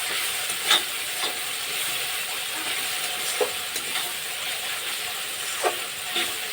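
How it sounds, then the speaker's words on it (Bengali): Fish curry masala with yogurt and meat masala fries in a pan, giving a steady close sizzle broken by a few soft scrapes and taps of stirring, with no talking. "মিট মশলাটা দেওয়ার পরে একটু নাড়িয়ে নেব"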